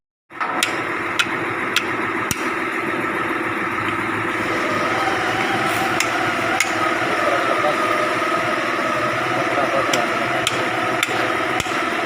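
An impact wrench rattles steadily and loudly during cabin cushion installation on a DZ 155, with sharp metallic clanks and knocks breaking in at intervals over a running engine.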